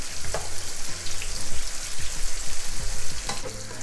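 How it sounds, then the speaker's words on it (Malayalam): Cockle meat fries in very hot oil, a loud, dense crackling sizzle up close, with bursts of stirring scrapes as the pieces are turned. "നല്ല ചൂടുള്ള എണ്ണയിലേക്ക് വേണം ഇതിടാനായിട്ട്. ഇത് നന്നായിട്ടൊന്ന് ഇളക്കി കൊടുക്കാം."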